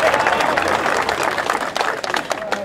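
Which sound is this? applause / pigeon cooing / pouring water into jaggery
applause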